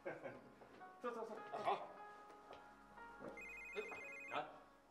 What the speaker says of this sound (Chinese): 我接个电话啊